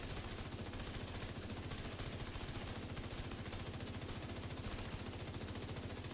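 Rapid, continuous automatic fire from the St. Elmo's Engine rifle in a video game, fitted with an enlarged 150-round magazine: a loud, evenly spaced stream of shots with no pause.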